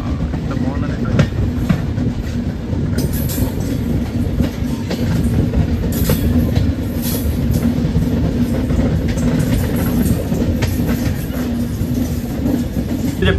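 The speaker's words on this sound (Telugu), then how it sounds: "మన ట్రైన్ ఇప్పుడు ఆ లైన్లో వెళ్తుంది అనమాట, టువర్డ్స్ తిరుపతి." A passenger express train runs on a single-line track toward Tirupati, its steady loud rumble and rhythmic clatter heard from on board across the whole clip, with a voice speaking partly over it.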